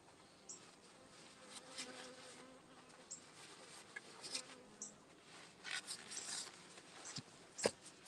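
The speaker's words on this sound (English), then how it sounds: "Look at all those bees right there." Honey bees buzzing around a backyard beehive, a faint steady drone with individual bees zipping close past now and then, quiet and outdoors with no talking.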